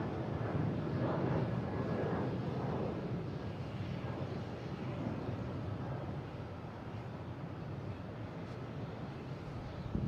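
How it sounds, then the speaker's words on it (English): An American Airlines Boeing 737-800 bound for Chicago takes off from Boston Logan, a broad, steady jet roar heard from a distance with some wind buffeting, swelling early and then holding level. "I'll get this American taken off. Heading to Chicago, 737-800."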